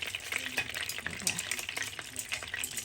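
Fish frying in oil in a pan, kept to a light crisp for a tomato sauce dish: a steady, dense sizzle and crackle runs throughout with small pops and stirring scrapes, close and fairly loud.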